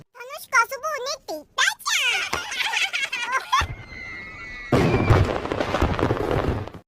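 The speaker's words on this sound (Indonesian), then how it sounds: "Kembang api muncul dan mewarnai langit yang gelap" Fireworks in a film scene from As The God Will: a dense, crackling burst of explosions fills the last seconds after excited children's voices and a short tonal passage.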